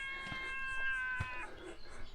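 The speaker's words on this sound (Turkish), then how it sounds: "Neredesin kedi?" A cat meows a few times in a rocky valley with carved cave openings, a drawn-out wavering cry standing out clearly against quiet outdoor background.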